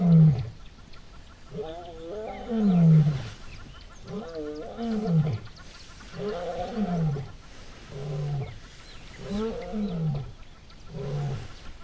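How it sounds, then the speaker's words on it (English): Lions roaring in Kruger National Park on a rainy day, a repeated series of deep, moaning roar calls and grunts in a steady rhythm, fairly close and loud with no talk over them. "I hear lions roaring now"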